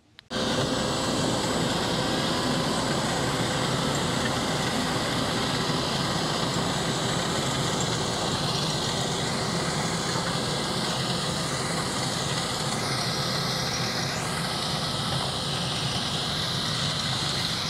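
A Fendt 724 tractor hitched to a Kverneland Optima precision seeder for rapeseed drones loudly and continuously while turning in a field, a steady mechanical hum with a shifting whine and no speech.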